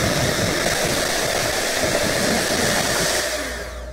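Electric mixer beating a runny yellowish cookie icing mixture, a loud continuous whirring drone that holds steady and begins to wind down near the end, with no talk.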